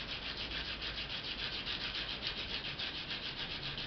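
Grinding a round hole in an eggshell gives a steady, close-up dry rasping with a fast rhythmic pulse, continuous and alone throughout.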